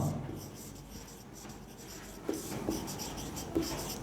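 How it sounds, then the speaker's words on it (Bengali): A pen writes on paper in short, close scratching strokes with a few sharper taps and scrapes, fairly quiet and irregular, with a faint voice in the background. "এখন লিখব আই কমা"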